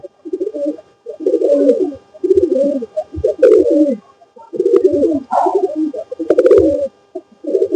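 A domestic pigeon coos close by in repeated low, throaty phrases, each roughly a second long, separated by brief pauses and steady throughout.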